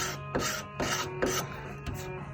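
Layers of paint being scraped off a surface come through as four or five rough, rasping strokes in a steady rhythm, close and fairly quiet, with no voices.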